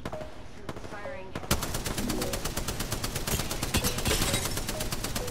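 Rapid automatic gunfire in the video game Apex Legends, a dense, loud stream of shots that starts with a few bursts and then runs almost continuously.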